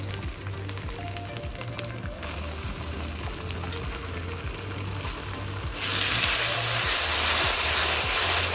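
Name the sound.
frying onion with garlic paste in a pan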